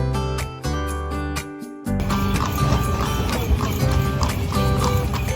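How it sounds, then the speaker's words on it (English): Horse hooves clip-clop steadily along with the rattle of a horse-drawn cart in Xinjiang, set against a bed of music that runs throughout. "We took a horse-drawn cart to visit for key attractions."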